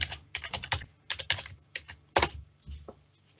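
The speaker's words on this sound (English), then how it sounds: "I will just type my username and my password." Fast, close keystrokes on a computer keyboard as a username and password are entered at a login screen, quick bursts of crisp clicks with short gaps and a final few taps.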